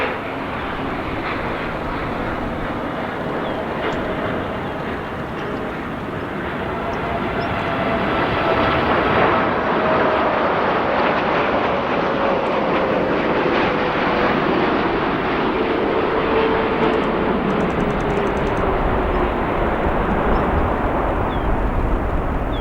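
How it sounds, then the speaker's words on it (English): A Nippon Cargo Airlines Boeing 747-8 cargo jet at O'Hare International Airport gives a steady, loud, broadband jet roar that holds for the full stretch, swelling slightly midway, with a faint drifting engine whine on top and no talking. "here we have our Nippon Cargo Airlines 747-8 from England"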